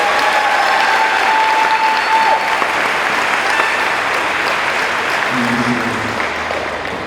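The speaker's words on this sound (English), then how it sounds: "Let's give these students a round of applause." A large audience at a high school graduation ceremony applauds the students, sustained dense clapping filling a big hall, loud at first and easing slightly toward the end.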